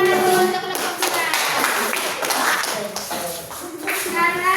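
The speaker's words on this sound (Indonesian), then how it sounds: "Tepuk tangan dulu untuk kelompok 2." A classroom of students clapping for a presenting group, uneven bursts of hand claps with taps and shuffling, close and fairly loud, mixed with some chatter and children's voices in the room.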